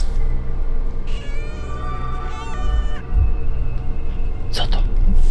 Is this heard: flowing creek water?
no